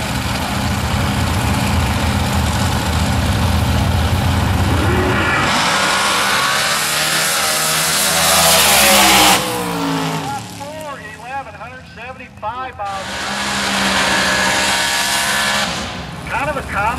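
Chuck Baird's nostalgia dragster, a combination dragster and altered, rumbles at a drag strip, its engine growling and revving in bursts with sweeping pitch changes, while a voice talks over the noise.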